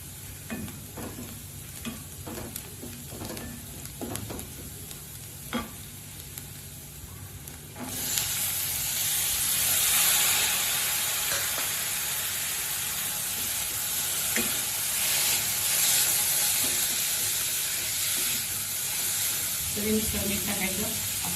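Browned onion crackles quietly in a pan before turmeric and cooked cauliflower go in, when a loud, continuous sizzle bursts up and continues with occasional stirring scrapes, and a voice speaks intermittently.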